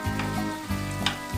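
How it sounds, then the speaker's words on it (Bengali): Kara chutney ingredients, a South Indian red chutney, are stirred as they fry in a pan, giving a steady close sizzle with soft scraping strokes throughout. "এবার এটাকে নেড়ে নেব,"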